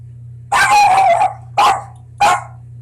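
A dog barks three times indoors, close and loud. A long first bark is followed by two shorter ones, with a low steady hum underneath.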